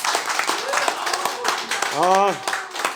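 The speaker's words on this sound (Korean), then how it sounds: "화끈하게 강하게 말씀하시면 박수 많이 나오시네" An audience claps at a talk about rhythm dance, with scattered rapid applause mixed with loud talking and a brief exclamation from the crowd.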